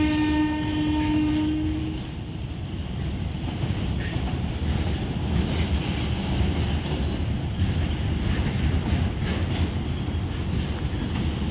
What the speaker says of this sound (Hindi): अंदर एक और ट्रेन आ रही देख